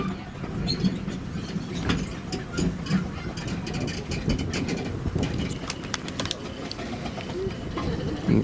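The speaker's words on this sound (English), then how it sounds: "it sounds like Samson's slipping on the wet rails" Samson, a miniature steam locomotive on the Romney, Hythe and Dymchurch Railway, slips on rain-wet rails, giving irregular sharp chuffs and mechanical clanks over a low rumble at moderate distance.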